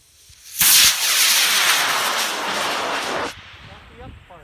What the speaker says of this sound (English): rocket going in 5, 4, 3, 2, 1.